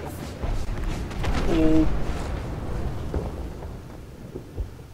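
Rumbling explosions from the video game It Takes Two roll through a dense, thunder-like wash of low noise for several seconds, swelling near the middle, with a brief exclaimed voice over the top.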